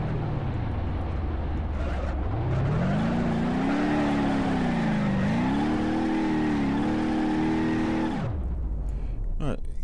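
A Maluch 126P small car in the BeamNG.drive video game starts from idle, then revs hard with a wavering, straining engine note through several gear shifts. The engine drops back to idle near the end, while someone talks over it.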